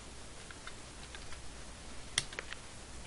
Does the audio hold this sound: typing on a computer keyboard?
yes